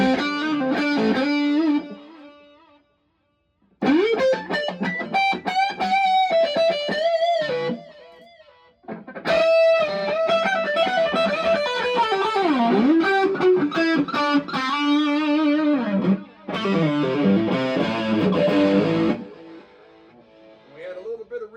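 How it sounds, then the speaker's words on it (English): Electric guitar through a Dumble amp with the gain pushed, run into an Ampero Stage ping pong delay and light reverb, playing loud sustained distorted phrases with repeating echoes and short pauses between lines, no talking. "Let's add some effects so you can hear the slap of the ping pong delay coming from the AMPERO."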